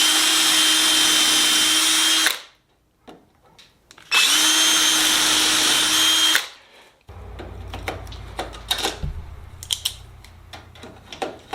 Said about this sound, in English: measure off and drill these holes on the correct side